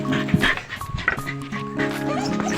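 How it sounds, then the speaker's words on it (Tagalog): Two pet dogs bark and yip close by in sharp, excited bursts, mixed with whimpers, while people talk in the background. "Aso ko."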